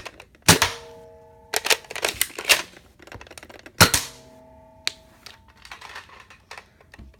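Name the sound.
loading and firing the Buzzbee Airmax Baron toy pistol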